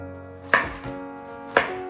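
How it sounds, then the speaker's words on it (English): Two sharp knife chops cut through onions on a cutting board, spaced about a second apart, close and crisp with no talk over a steady low hum. "And the onions don't need to be in small pieces, so I'm just chopping them."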